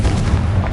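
A Confringo fire spell bursts in Hogwarts Legacy, a dense, booming blast with low rumble filling the whole brief moment, loud and close.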